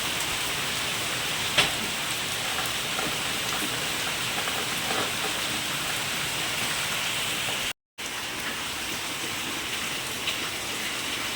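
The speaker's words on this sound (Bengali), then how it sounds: "প্রচুর বৃষ্টি হচ্ছে বাইরে।" Heavy rain pours outside, a dense, steady roar of falling water with occasional louder drops and a brief dropout near the end.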